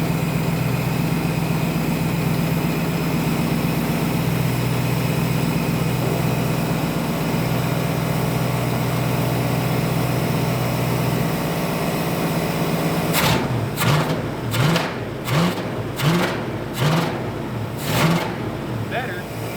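Junkyard 1966 Ford Mustang V8 running rough after decades of sitting: a steady idle that falters, then several sharp revs and bursts in quick succession, close and loud, with people talking over it.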